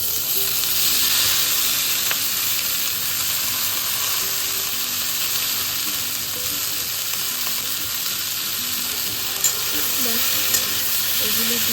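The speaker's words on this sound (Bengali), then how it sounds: "নাড়াচাড়া করে এবার এর মধ্যে আমি বয়েল করে রাখা সবজিগুলো দিয়ে দেবো।" Boiled vegetables being sautéed in a pan give a steady, close sizzling hiss with occasional stirring scrapes, continuous and even throughout with no talking.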